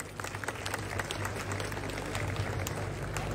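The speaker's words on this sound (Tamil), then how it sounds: "ஒரு பெரிய கைத்தட்டலோடு" A crowd applauds a bishop arriving at a church car procession, a faint, even wash of many hands clapping at a distance, continuous across the moment without voices over it.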